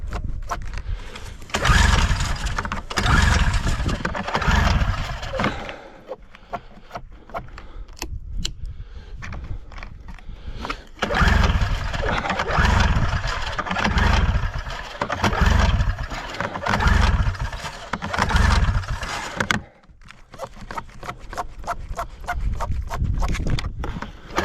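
A Skidoo 377 snowmobile engine is pulled over and sputters in repeated loud bursts. It catches and drops out, then runs unevenly in close, rough revving stretches with brief pauses.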